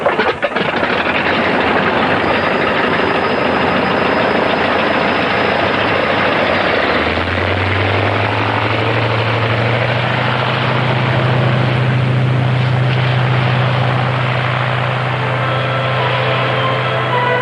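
An old First World War aircraft engine of the kind French aviators flew in 1914 starts up: a loud, rough roar at first, then a steady droning run that settles into a deep continuous hum, close and without talk.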